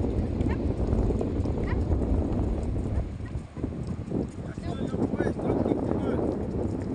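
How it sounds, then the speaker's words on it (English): Horses ridden along Seminyak Beach in Bali at sunrise, with faint hoof clip-clops under steady surf and wind noise and people talking nearby throughout. "riding horse at Seminyak Beach"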